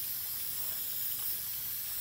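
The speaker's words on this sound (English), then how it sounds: "we're going to spray this really good with our black spray paint" Black spray paint hisses steadily from a can onto mirror glass, a close, even, continuous spray lasting a couple of seconds with no talking.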